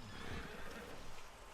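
A horse whinnies faintly in the Red Dead Redemption 2 video game, a brief wavering neigh over soft ambient background noise, with no talking.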